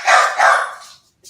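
A dog barks twice in quick succession, loud and fairly close, with a short gap of quiet after.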